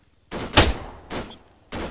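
Gunfire in the video game Exile: three sharp bursts of shots spaced about a second apart, loud and close, with no talk over them.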